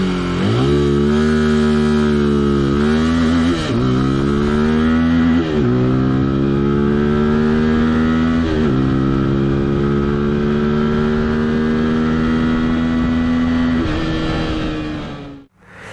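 A Dayang DY 200 motorcycle's small single engine, under 200 cc, runs loud and close, climbing through several rising pulls with a brief dip between each, then holding a steady high drone before cutting off abruptly at the end.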